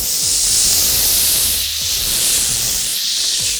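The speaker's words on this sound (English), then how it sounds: "Deglaze that pan with lemon juice" Lemon juice hitting a hot pan of browned butter to deglaze it, a loud, close, continuous sizzling hiss with bright spitting crackle that swells and eases slightly over a few seconds.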